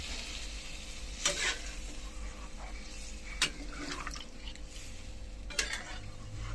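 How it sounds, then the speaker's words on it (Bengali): Water goes into a pot of mutton and potatoes cooking on the stove, with a steady sizzle and bubbling, a few clinks of a spoon against the pot, close and moderately quiet with no talking. "মাটন না সিদ্ধ থাকলে তাহলে আলুটা ডোবার সময় দিতে সিদ্ধ কোনটা এখানে দিয়ে দিলাম জল"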